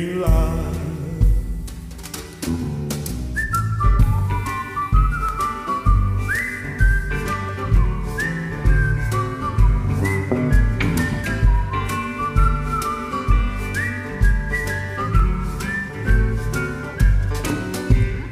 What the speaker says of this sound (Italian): ma io fischietto